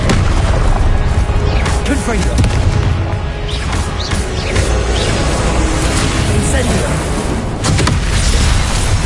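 Confringo blasting-curse explosions in a Harry Potter video game, repeated booming blasts over a dense roar of combat noise, with a voice shouting intermittently.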